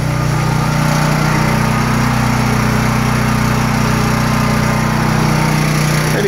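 A 9000W gasoline generator running with a loud, steady engine drone and a constant hum, close by and unbroken, with no talking.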